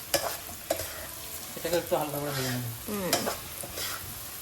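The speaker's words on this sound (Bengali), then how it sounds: "ওই যেখানে ভাজছে এটা, তো সেখানে দিয়ে দিল আলুটা" Boiled potatoes stirred in a sizzling frying pan: a steady fry hiss under repeated scraping and clinking of a utensil against the pan, with a few squeaky tones in the middle.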